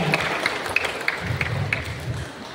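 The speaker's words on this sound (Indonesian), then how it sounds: "sekali lagi kita tepuk tangan untuk ayah bunda semuanya" A seminar audience of parents at an Indonesian school claps for a few seconds, with sharp, fairly evenly spaced claps standing out over a soft murmur of room noise.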